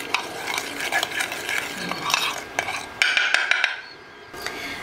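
Boiled corn being mixed with lemon and salt in a bowl gives off a run of close, irregular clicks and scrapes, with no voices.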